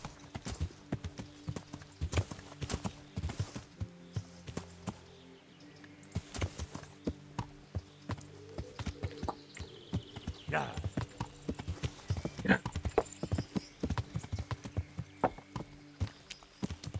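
Horse hooves clip-clop in a steady, close rhythm in the video game Kingdom Come: Deliverance, continuing throughout with a few brief pauses between runs of footfalls.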